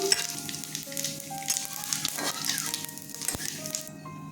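Dried chilli, bay leaf and cumin sizzle in hot oil with a bright, crackling hiss, a few spatters and a sharp tap marking the steady frying.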